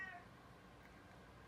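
A pet cat gives a faint, brief meow indoors, heard once at the start and then fading into quiet room noise.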